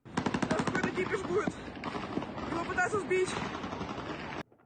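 Rapid bursts of automatic gunfire at sea off Sochi, aimed at naval drones, rattle continuously and loudly, with rhythmic repeated shots over a roar of background noise, ending abruptly.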